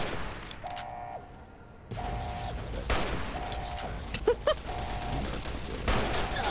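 Scattered gunfire in the game Fallout: New Vegas, moderately loud shots and bursts over a humming ambient background with repeating tonal beeps.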